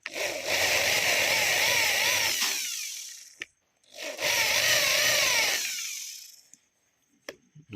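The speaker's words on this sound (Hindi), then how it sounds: "तो ये मैं ड्रिल मशीन से" An electric drill cuts grooves into a brass fitting for a harmonium in two sustained bursts, each with a rising and falling high-pitched whine and metallic grinding, followed by brief clicks and pauses. No one speaks.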